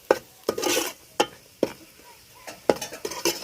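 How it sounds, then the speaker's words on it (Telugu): Egg curry masala being stirred in a pan right after coriander powder goes in: sharp scraping strokes of a spoon against the metal, five or six distinct bursts with a faint sizzle between, close and fairly loud, no talk. "ధనియాల పొడి అవన్నీ వేసిన తర్వాత కలుపుకుందామండి"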